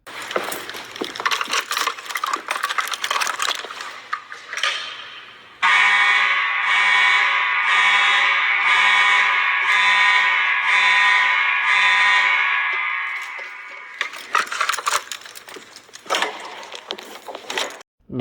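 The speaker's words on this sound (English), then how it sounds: "This is what happens when you hit Zone 7 on a conventional fire alarm panel." A conventional Simplex fire alarm panel sounds during a Zone 7 test. A loud, steady pulsing horn buzzes for about seven seconds, with clattering and knocking noises before and after.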